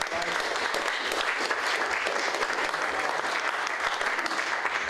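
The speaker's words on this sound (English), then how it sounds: "Round of applause to the Morton Memorial Library." Steady, even applause fills a public meeting room on oil barges docking on the Hudson River, many hands clapping continuously for the full five seconds with no voices above it.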